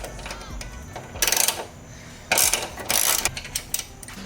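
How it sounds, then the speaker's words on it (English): A ratchet works loose a 10mm bolt on an Infiniti Q50 Red Sport during a flex fuel kit install, giving bursts of fast clicking ratcheting separated by quieter pauses, close and fairly loud. "You're going to want to remove that 10mm bolt."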